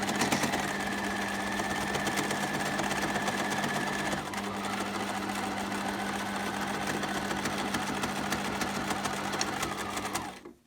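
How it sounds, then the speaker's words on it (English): A sewing machine runs continuously at steady speed, stitching a wavy line on fabric for a zip pouch. There is a brief shift in pitch midway and it stops abruptly at the end. "just come down with one more line of stitching in a wavy line"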